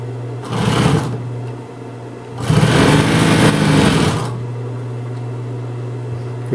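A Consew 206RB industrial sewing machine sews a long stitch at high speed, with two bursts of rapid, steady whirring, one short and one longer, over a constant low motor hum.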